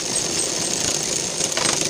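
A sewing machine stitching a lined blouse, running as a steady, loud, continuous mechanical whir close by with no pauses.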